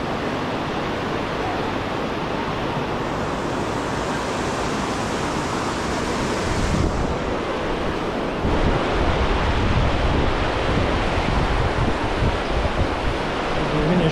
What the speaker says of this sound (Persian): این هم رودخونه.